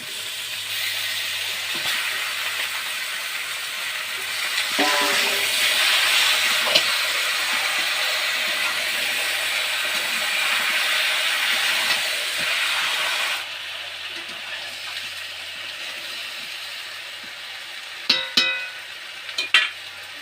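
Chopped broiler chicken and potatoes fry in a pan, producing a steady close sizzle and hiss that swells after a few seconds, softens later on, and ends with a few sharp clanks of stirring.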